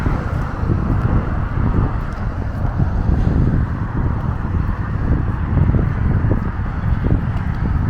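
Traffic on the Belt Parkway along the icy Brooklyn waterfront, a continuous dense rumble of passing vehicles mixed with wind noise, steady and fairly loud with no talking.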